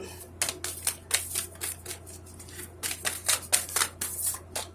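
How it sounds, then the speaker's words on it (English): Tarot cards being shuffled up close, a series of quick crisp riffling bursts in two clusters with a short pause between, no talking. "let me just do one more shuffle here"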